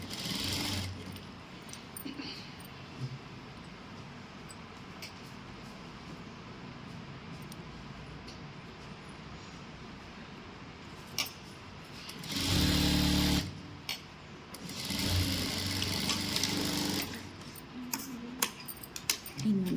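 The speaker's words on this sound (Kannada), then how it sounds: "ಇನ್ನೊಂದು ಸ್ಟಿಚ್ ಹಾಕೊತಾ ಇದ್ದೀನಿ ಪಕ್ಕಕ್ಕೆ" A sewing machine stitching a chudidar pant runs in steady bursts, with a longer continuous stretch and short pauses between passes; close and moderately loud, with no talking.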